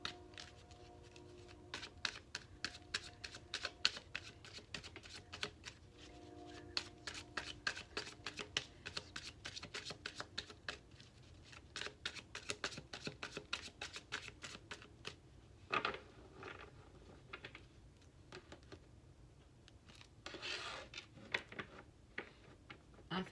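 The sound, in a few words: shuffling tarot cards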